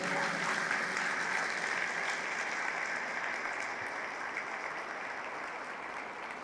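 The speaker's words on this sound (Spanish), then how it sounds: "Fuerte el aplauso a la palabra del Señor." A church congregation claps after a scripture reading, with sustained, even applause from many hands filling the room, heard from a middle distance and slowly fading over about six seconds, with no talking over it.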